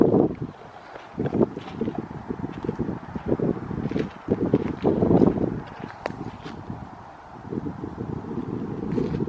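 Wind gusts across an outdoor clearing of logged land, rumbling low and uneven close to the microphone, swelling and fading in waves with no voices.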